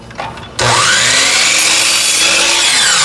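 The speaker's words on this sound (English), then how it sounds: "I got my saw set at 45." A miter saw set at 45 degrees bites into a wood board after a brief quiet lead-in. A loud, sustained whining cut follows, close and alone.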